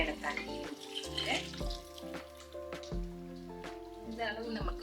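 Water pours into a simmering pot of tamarind curry with green turkey berries with a splashing trickle, mixed with clinks and stirring sounds.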